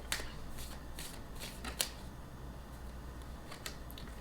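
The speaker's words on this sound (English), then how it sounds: "We're going to do just a little bit more shuffling" Tarot cards shuffled close by in a quiet room, with a run of soft, brisk riffling bursts over a steady low hum and no voices.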